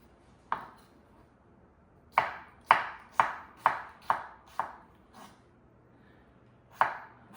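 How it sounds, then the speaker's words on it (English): A knife chops cucumber and peppers into small bite-sized pieces on a board, giving about eight crisp, separate cuts, mostly in a quick run with a pause before the last one. The sound is close and moderately loud, with no talking. "So I like to cut the cucumber and the peppers, everything in small, little, like 1 centimeter, just bite-sized pieces"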